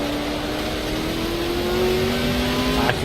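A car engine in a racing video game hums at a steady, slowly rising pitch as it holds speed on a lap, clear and close with no talk over it.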